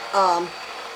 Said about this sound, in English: So I'm going to use this immersion blender in here to